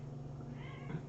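A single faint cat meow rises briefly from a rescue center shed, heard alone against quiet low background hum.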